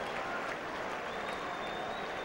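Rugby supporters at a sunny Gloucester home ground applaud as the team runs out to face Wasps, a dense distant wash of clapping and crowd noise heard faintly under a commentator's voice.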